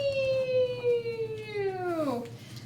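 A single voice imitates a police car siren in one long, sustained, pitch-sliding wail that sweeps downward and drops off sharply at the end, heard alone with no other talk.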